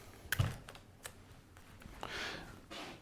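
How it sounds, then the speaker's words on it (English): Tape is pulled and wrapped around a block of Oasis floral foam set in a dish for a gift arrangement, giving a few close, sharp ripping and crackling bursts separated by quieter handling. "I'm going to use a little bit of tape, and we're just going to go round our foam"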